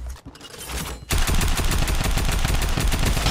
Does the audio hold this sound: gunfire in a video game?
yes